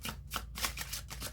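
A deck of tarot cards being shuffled, quiet rapid riffles and slides in short bursts of card-on-card flutter, close and alone.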